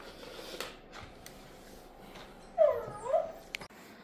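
A puppy whimpers and yips in short, high, wavering cries, a couple of close whines near the end over a quiet room with light rustling.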